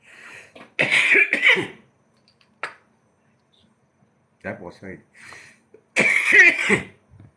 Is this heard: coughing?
yes